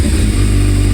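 A Yamaha Thundercat 600R motorcycle engine roars loud and close in a single sustained rev, with a thick low-pitched exhaust drone throughout.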